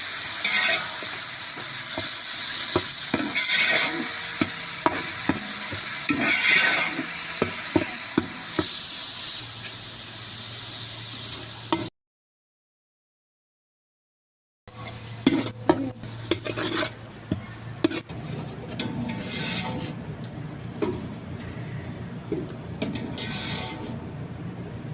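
A tomato, ginger and garlic masala fries in a pan for an iftar dish, sizzling and hissing steadily while a spoon scrapes and stirs, broken by a few seconds of silence before the frying and stirring resume.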